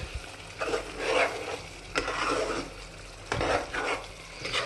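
A spoon stirs Worcestershire sauce into a meatball sauce for spaghetti in a pan. Close, wet scraping strokes recur in a loose rhythm over a gentle simmer, with no voices.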